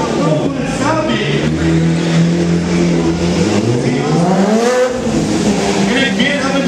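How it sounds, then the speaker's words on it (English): At a 2013 New York motorcycle stunt show, a big BMW motorcycle's engine roars loudly and continuously, its pitch rising and falling as it revs through a circling run, with an announcer's voice over the top. "he's going to bring that big BMW all the way around"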